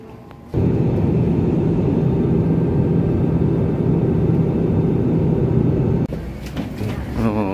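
Inside an airplane cabin, a loud, steady low engine and air rumble fills the space for about five seconds, then it drops and a quieter stretch follows.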